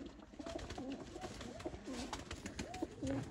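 Pigeons coo repeatedly in a loft where Sialkoti show pigeons are kept, a female among them, the soft rolling calls overlapping steadily against a busy, noisy background with no talking.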